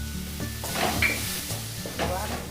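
Ground turmeric, coriander, chili and cumin powders sizzle and hiss in hot oil while being stirred in a pan for a papaya and fish-head curry, steady and close with scraping stir strokes, no talking.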